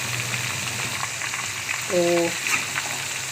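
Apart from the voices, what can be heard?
fish frying in hot oil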